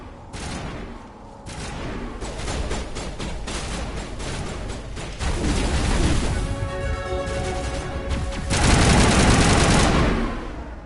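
Sustained rapid gunfire from a video game, Mass Effect: Legendary Edition, with loud dense bursts of automatic shots that swell toward the end and fill the whole clip with no voices.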